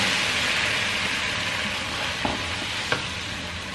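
Sautéed garlic in a pan hisses and sizzles steadily after water goes in, with a few soft clicks of a utensil stirring, no voices.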